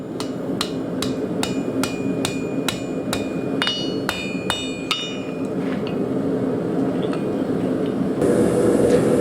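Rhythmic hammer blows ring out on hot steel over an anvil edge, forging a drive hook's rat tail scroll, about a dozen sharp strikes in a steady beat, then fading taps over a low background rumble.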